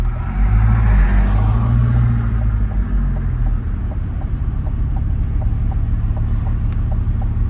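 A Chevrolet Corvette GT4 R race car engine revs loud and close, surging in a deep rumbling burst, then settling into a steady throbbing idle.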